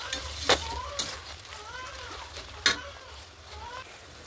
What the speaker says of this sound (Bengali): এখন মাংসটা অল্প ভেজে নেব।